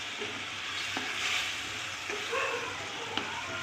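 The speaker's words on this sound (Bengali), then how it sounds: "এবারে সব কিছু খুব ভালো করে কষিয়ে নেব।" Spices with turmeric, chilli powder and a little water are sautéed in a pan, giving a soft, steady sizzle with a few light spatula scrapes and taps.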